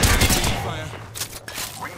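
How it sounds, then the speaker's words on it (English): A close burst of rapid gunfire opens a fight in Apex Legends, then trails off into thuds and scattered shots while a voice briefly speaks. "The enemies are shooting at me"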